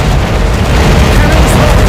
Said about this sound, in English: Ready to fire again. Fire! Port cannons.